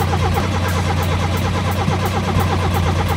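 A car engine that had died runs again after restarting, a steady mid-pitched idle with a throbbing low hum, close and loud throughout, with no talking.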